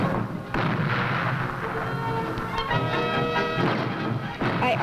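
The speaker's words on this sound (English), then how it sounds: "on July 4th, Kenosha had the biggest fireworks display in its history" Kenosha's July 4th Bicentennial fireworks display in 1976, loud booming bursts arriving one after another in quick succession, with a ringing tonal layer underneath.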